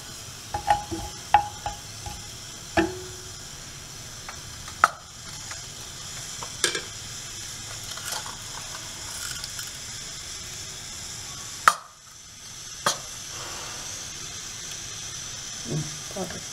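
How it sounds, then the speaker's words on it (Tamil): Mustard seeds and cumin splutter in hot oil for a Tamil greens stir-fry, a continuous faint sizzle broken by scattered sharp pops and a few spoon scrapes against the pan, with no one talking. "கடுகு பொரிஞ்ச உடனே இப்போ சீரகத்தை சேர்த்து போட்டுரும், அதுவும் பொரியட்டும்."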